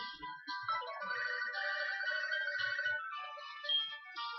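Electronic phone ringtone from a Pokémon video game, playing as a steady, continuous melodic tune at moderate level with no talk over it.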